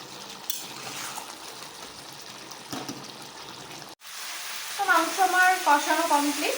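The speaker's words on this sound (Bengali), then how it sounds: "এই যে মাংসটার মধ্যে দিয়ে দেওয়ার পর এটাকে ভালো করে একটু কষিয়ে নেব।" Meat and potatoes sautéing in a home-cooking pan, a steady sizzle and frying crackle that grows louder in the second half with stirring scrapes, no one speaking.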